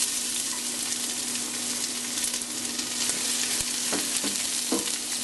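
Garlic and onion sautéing in a pan for pork dinuguan, a steady hiss and crackle of frying oil with a few light stirring clinks near the end.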